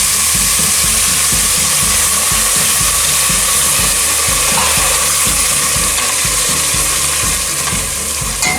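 Tamarind extract hits a hot pan for tamarind rice and sizzles loudly and steadily, with a rhythmic scraping stir repeating underneath the whole time.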